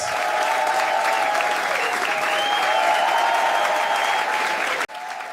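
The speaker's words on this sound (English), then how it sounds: "Give him one more big round of applause." A comedy show audience breaks into a loud, sustained round of applause and cheering for a comedian, steady throughout before dropping briefly and resuming near the end.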